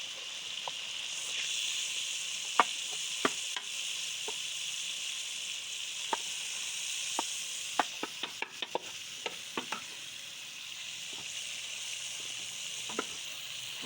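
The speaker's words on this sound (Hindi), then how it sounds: "तो अब हम इसमें ऐड कर देते हैं जी गवारा" Cluster beans (gawara) added to a prepared masala in a village kitchen give a soft steady sizzle, broken by scattered sharp clicks and scrapes of stirring, faint and close, with no talk.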